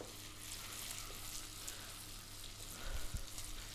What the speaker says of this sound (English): Keep stirring the potato because you don't want it to be burnt from one side only.